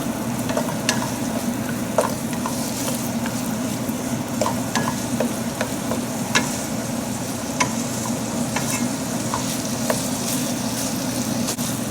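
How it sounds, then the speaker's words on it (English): Ground chicken fries with onions in a pan, a steady close sizzle broken by sharp clicks and scrapes as the meat is stirred and broken up. "So we'll cook the meat till it's opaque."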